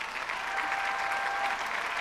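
Audience applause fills a Thai awards ceremony honoring diamond-level Amway business owners, a steady, dense wash of clapping that holds at an even level for the whole two seconds without pause.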